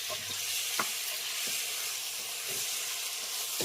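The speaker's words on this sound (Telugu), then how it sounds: "ఒక 5 నిమిషాలు ఇట్లానే కలుపుకుంటూ వేపుకోవాలి బాగా." Country chicken pieces fry with tomatoes in a pan for naatu kodi pulusu, a continuous close sizzle broken by several soft scraping stirs at irregular intervals.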